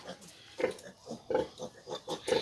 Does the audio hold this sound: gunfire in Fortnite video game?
no